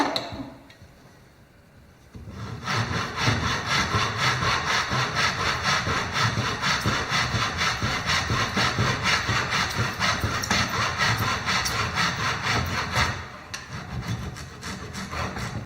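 A hand saw cuts a rebate joint in a piece of wood held in a vise, with a short quiet lead-in followed by continuous, loud, rhythmic back-and-forth rasping strokes that ease off near the end.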